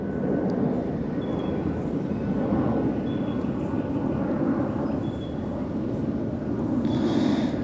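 A fixed-wing airplane passes overhead beside an urban creek in Sydney, a steady droning roar that swells slightly toward the end, fairly loud and unbroken, with faint background birds.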